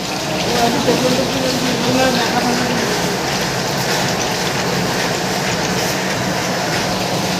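A train rumbles past with a steady rushing roar and faint rhythmic clatter, fairly loud and close, with some voices mixed in.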